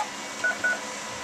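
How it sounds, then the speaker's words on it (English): A voice-over-IP desk phone dials a cell phone, giving two short, clear keypad beeps in quick succession over a faint steady background hiss. "I have a voice over IP phone where I can actually call my cell phone."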